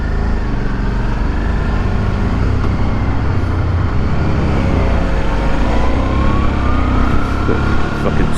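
A car engine chugging at low revs in sixth gear, heard as a steady, loud in-cabin drone and rumble with road noise that holds constant throughout.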